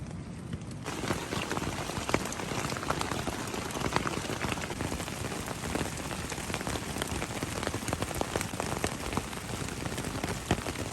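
Steady rain in Asturias, Spain, pattering densely on a surface, a constant close hiss of drops with no voices, unchanging throughout.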